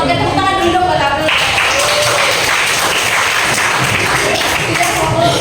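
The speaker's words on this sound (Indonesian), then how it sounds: "Oke, tepuk tangan dulu buat April" A group of participants in a classroom teaching session claps together, loud, dense clapping close by, mixed with voices and some tapping and thumps.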